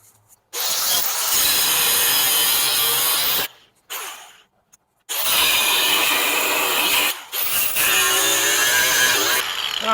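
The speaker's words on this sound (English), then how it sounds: "You go around a cutting disc and we'll cut this off." Cutting disc grinding through bolts on a Kenworth cabover truck frame, a loud, sustained abrasive whine in long bursts broken by short pauses.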